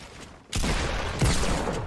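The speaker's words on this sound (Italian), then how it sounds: "Sto sparando da sud" Gunfire in Fortnite, a dense burst of shots with a sharper crack partway through, loud and close, with no talking.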